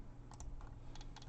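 Soft, quick keystrokes on a computer keyboard, a few scattered taps over a low background hum.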